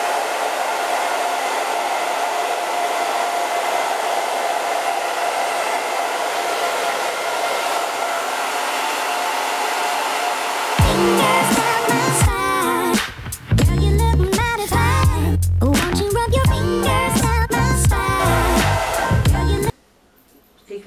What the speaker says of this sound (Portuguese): Um secador e uma peneirinha.